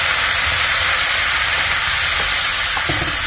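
Water splashing into a hot pan of spiced cabbage with chopped tomato and green chilli, giving a loud, steady steamy hiss that sizzles throughout with a few small crackles near the end.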